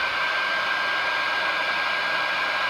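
A hair dryer blows steadily and loudly to dry inlay fill paint in the engraving of an AR lower receiver, one continuous whoosh with no voices.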